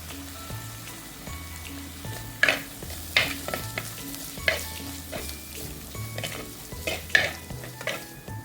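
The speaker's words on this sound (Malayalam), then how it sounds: "അപ്പോൾ ഇതൊന്ന് ചെറുതായിട്ടൊന്ന് വഴണ്ട് വരട്ടെ" Curry leaves and green chillies sautéing in hot oil for beetroot rasam, a soft crackling sizzle punctuated by several distinct spatula scrapes and pops against the pan, no voices.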